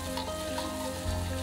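Spices and chili powder are stirred in a sizzling pan of garlic butter shrimp sauce, giving a continuous close frying hiss with faint scraping of the stirring.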